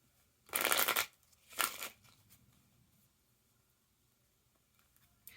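Tarot cards shuffled close by in two quick riffling bursts, a longer one followed by a shorter one, then quiet.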